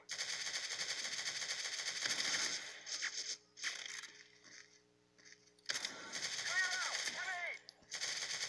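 Video game gunfire in a military shooter rattles in dense bursts over a busy battle soundscape, pausing and then returning loudly, with a few short shouted voices mixed in.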